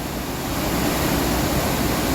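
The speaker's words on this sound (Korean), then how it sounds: "이 물소리에 집중해서 듣고 있으면" Steady, broadband rush of water from the Mekong River at a waterfall or rapids, a dense continuous roar that holds constant throughout with no breaks and no voices.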